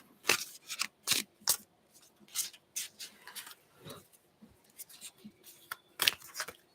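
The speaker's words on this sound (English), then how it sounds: "I have to shuffle 3 decks at the same time" Three tarot card decks shuffled together by hand, giving repeated crisp riffling bursts and soft slaps at an irregular pace, close and fairly quiet with faint background rustle.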